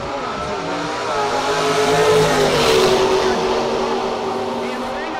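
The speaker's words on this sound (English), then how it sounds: "We got a drag race. Here we go." Drag racing cars at a no-box drag event, loud engines roaring and building as they launch and pass, with a broad rising surge midway, a commentator's voice faintly mixed in.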